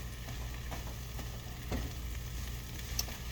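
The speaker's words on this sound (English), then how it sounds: "You could hear it sizzling." Tofu sizzles in a frying pan, a soft, steady crackle close by with small pops and light stirring scrapes, no voices over it.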